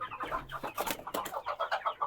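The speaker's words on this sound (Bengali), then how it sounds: "অনেক চঞ্চল মুরগিগুলো।" Lively chickens, mostly roosters, crowded in a farm shed in winter cluck and squawk in quick, bursty overlapping calls, close and fairly loud with no talking.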